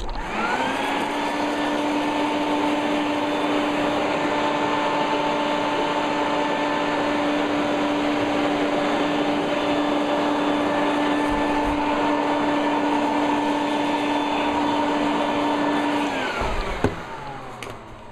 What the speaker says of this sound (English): And again, take your vacuum cleaner.